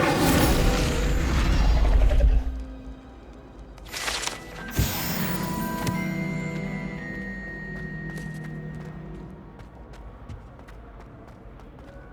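Incendio fire spell in Hogwarts Legacy, a sharp whooshing burst with a low booming impact, followed by crackling flame and fading magical rumble amid game ambience.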